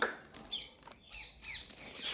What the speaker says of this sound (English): a cock is an adult male chicken. It is also called a rooster.